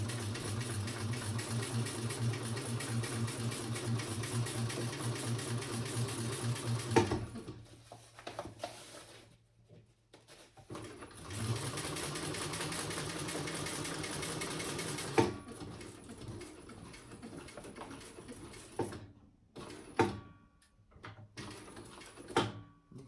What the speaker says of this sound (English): So we're going to sew along that line.